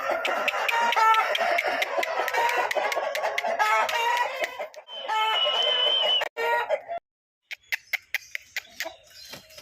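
A heavy-bodied black Myla rooster of about 24 inches clucks in close, loud bursts of rapid calls, then falls silent briefly before a few sharper, scattered clucks.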